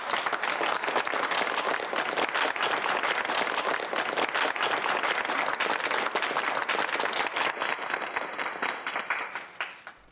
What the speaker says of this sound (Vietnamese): Vỗ tay chào mừng.